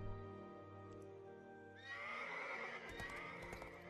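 A horse in the online fantasy game Runes of Magic gives a loud whinny, then hooves clop along with the game's music; no one speaks.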